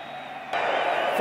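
Steady stadium crowd roar at a 2018 college football game between Utah State and Boise State, swelling noticeably louder halfway through and sustained under faint commentary.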